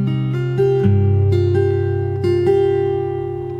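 Fingerstyle acoustic guitar plays the first bar of a song slowly, a low bass note under alternating plucks on the top two strings, a handful of notes ringing out close and unaccompanied.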